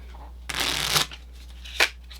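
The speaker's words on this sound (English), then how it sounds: "I swear I know how to shuffle cards." A quick riffle of playing cards being shuffled, a half-second burst of flapping followed by a short snap, close and clear.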